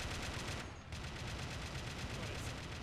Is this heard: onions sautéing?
no